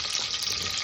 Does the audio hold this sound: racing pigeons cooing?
no